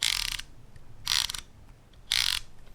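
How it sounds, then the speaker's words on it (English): The aperture ring of a SIRUI 85mm F1.4 Aurora camera lens clicks through its stops in three short bursts of rapid, light ratcheting clicks, close and clear with quiet pauses between. "Aperture ring, both of them have it, my favorite feature, and it can be clicked or declicked. Listen to how SIRUI sounds."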